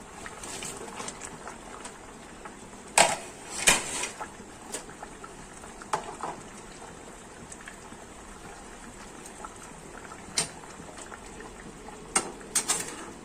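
Fried hilsa fish pieces going into a simmering potato curry: a soft, steady bubbling hiss underlies several distinct clinks and knocks of utensils against the pot, close and moderately quiet.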